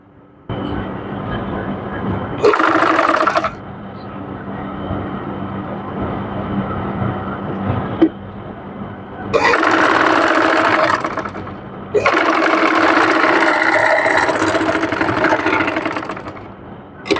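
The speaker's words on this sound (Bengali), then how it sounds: "এখান দিয়ে একটা সেলাই দিয়ে নিব" A sewing machine stitching thin elastic into a sleeve cuff runs in long, steady, loud bursts with brief pauses and lighter stretches between runs, heard close and alone.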